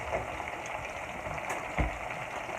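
Loaded seafood potatoes cooking in a pan, a soft steady sizzle under a constant low hiss with a couple of faint clicks, fairly quiet and alone.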